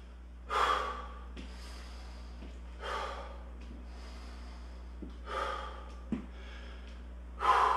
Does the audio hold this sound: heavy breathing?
yes